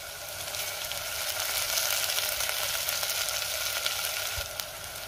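Mung dal and potato curry with onion, garlic and garam masala being stirred in a pan, giving a steady close sizzle with soft scraping throughout and no talk.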